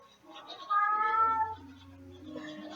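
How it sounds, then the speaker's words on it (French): An angry cat lets out a drawn-out, wavering yowl, with a second cat hidden underneath; the single mournful cry rises and then trails off, moderately quiet and alone, with no voices. "Le chat se met à chanter tout d'un coup, c'est pas bon signe."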